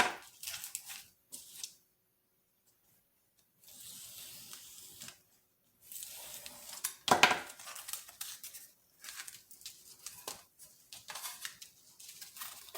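Scissors cut material down to size for a gift box in a series of close, quiet snips and rasping slides, arriving in short bursts separated by silent pauses.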